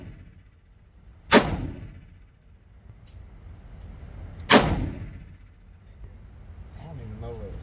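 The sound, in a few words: revolver gunshots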